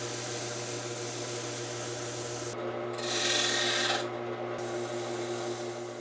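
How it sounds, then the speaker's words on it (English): Sandpaper rubs against a wooden trophy spinning on a lathe, a steady close rasping over the lathe's constant motor hum, growing briefly louder and brighter midway before easing back. "I'm just gonna do some sanding on here to try to even everything out"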